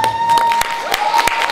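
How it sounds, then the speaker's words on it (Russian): A crowd at a student beauty pageant claps and cheers for the winner, quick loud hand claps over a sustained tone and crowd noise in a large hall. "Корона, аплодисменты,"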